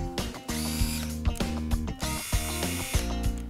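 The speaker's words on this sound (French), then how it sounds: "Il suffit d'introduire un embout de vissage dans ce logement hexagonal et de visser ou de dévisser." A compact electric screwdriver drives or backs out a screw with a close, loud motor whir broken by repeated ratcheting clicks in a quick, uneven rhythm.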